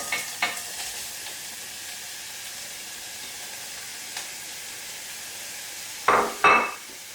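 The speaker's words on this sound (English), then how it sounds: "very carefully add in my chopped onions, carrots and mushrooms" Chopped onions, carrots and mushrooms go into a pan for savoury pasta, giving a faint steady sizzle with a few light knocks, then two louder scraping clatters near the end as they are stirred; no talking.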